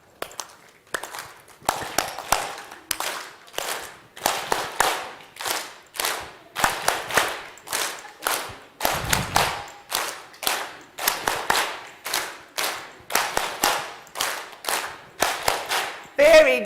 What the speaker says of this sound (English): I'm going to ask you to clap nicely with your hands